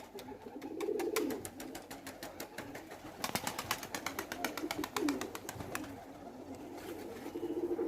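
Pigeons come down to land, with bursts of rapid wing clatter and flapping near at hand, low cooing underneath and a couple of sharp calls, no talk.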